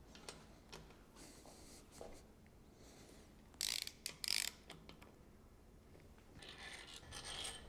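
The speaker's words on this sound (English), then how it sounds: "we're going to use a good old click torque wrench. We need that satisfying click sound." A click torque wrench tightening bolts on a supercharged Alpina B7 engine during a rebuild, with soft ratcheting and rubbing, then two sharp, loud clicks close together, followed by more faint mechanical rasping.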